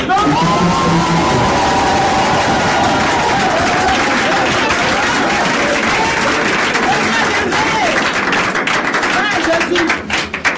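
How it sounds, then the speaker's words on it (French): A large crowd applauds and cheers loudly at a gathering welcoming a prophet home in Divo, with whoops and shouts over dense clapping that runs the full length, voices mixed in throughout. "Que je demande à tout le monde d'applaudir très fort."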